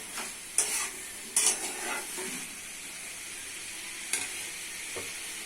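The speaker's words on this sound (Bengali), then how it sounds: "মশলা কষা হয়ে গেছে ছেড়ে দিচ্ছি আলু" Potatoes sizzle steadily in a pan of cooked-down spice paste, a continuous frying hiss punctuated by a few sharp stirring scrapes near the start and later, close and moderately loud with no voices.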